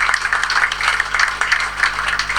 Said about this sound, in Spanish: acá está entrando el embajador de Cuba, así que le pedimos un aplauso